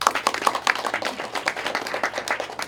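A church audience gives the press corps a brief round of clapping at a pastor's inauguration service, with dense, steady hand claps close by.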